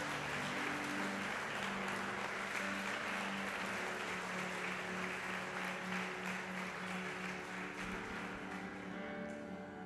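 A congregation in a church service claps steadily for about ten seconds, dense, continuous applause filling the room, with sustained tonal hum or music underneath.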